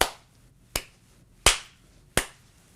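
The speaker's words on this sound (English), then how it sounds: "I'll clap my hands" Four sharp hand claps spaced irregularly, each ringing briefly in a quiet room, close and fairly loud.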